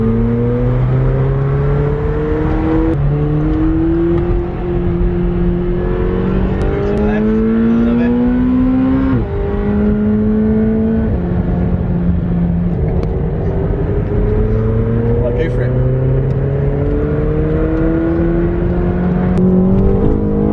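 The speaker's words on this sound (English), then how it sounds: "So we're driving 720S's and GT's, and we're going to do hot laps as well." A McLaren 720S sports car accelerating hard on hot laps, its engine revving up through repeated rising sweeps with brief drops at gear changes, loud and close for the whole stretch with no talk.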